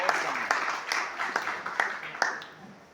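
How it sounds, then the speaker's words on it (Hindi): Brief, fairly faint clapping from an audience at a Hindi poetry gathering (kavi sammelan) in Katni, a scattering of separate claps rather than a full ovation, with a room voice under it. "एक बार जोरदार तालियां"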